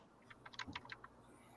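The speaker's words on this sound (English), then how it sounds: "I can hear the typing now." A short burst of keyboard typing, quick uneven clicks in a quiet room, fairly faint.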